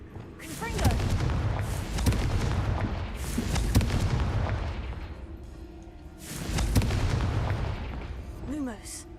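Confringo spell explosions in the video game Hogwarts Legacy go off as repeated booming blasts and crackling bursts in two loud waves, with a voice talking over the blasts.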